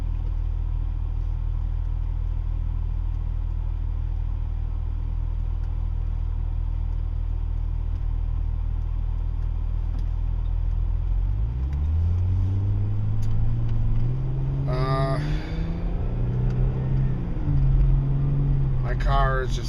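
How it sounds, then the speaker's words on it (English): A car engine idles in bumper-to-bumper traffic with a steady low rumble, then rises in pitch as it revs, while a voice speaks near the end. "My car is just not really liking traffic right now. Bumper to bumper."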